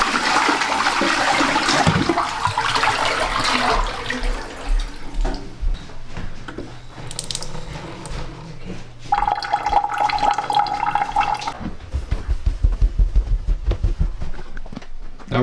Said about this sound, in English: You can also flush the toilets